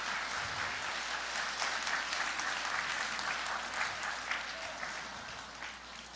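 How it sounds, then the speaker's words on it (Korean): Steady applause from a large church congregation at a Sunday service fills the space, a continuous wash of clapping that holds evenly for several seconds before tapering slightly. "우리 목사님 등단하실 때 우리 박수 한번 할까요?"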